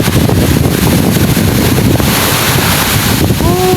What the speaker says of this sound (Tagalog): Dito po sa tapat ng bangka ko malalaki pa rin po yung alon